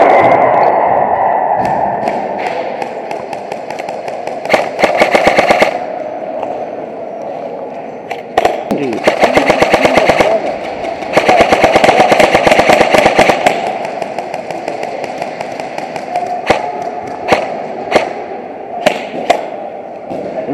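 Video game gunfire comes in rapid automatic bursts, several loud sustained volleys with short single shots between them, over a steady droning background.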